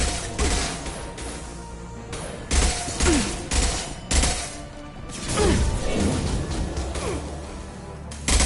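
Gunfire in the Mass Effect 2 video game, loud bursts of rapid shots and crashing impacts in several clusters, with whooshing sounds between them.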